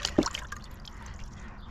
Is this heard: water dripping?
yes